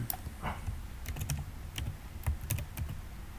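Keys clatter on a computer keyboard while website text is typed, with quick irregular clicks in short bursts over a low background hum, close and fairly quiet.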